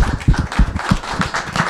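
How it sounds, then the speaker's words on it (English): A small crowd at a 16-inch softball Hall of Fame retirement gathering claps in a brief, loud, close round of applause with sharp irregular hand claps and no talking. "he deserves a little round of applause"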